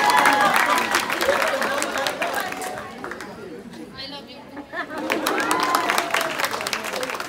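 A crowd at a Dasara celebration bursts into applause, with dense clapping at the start that eases into chatter and murmuring before swelling again near the end, voices mixed in throughout.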